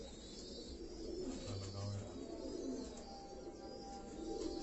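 Pigeons coo in a low, soft, steady murmur at a Karachi pigeon fancier's home loft, the burbling calls continuous and moderately close.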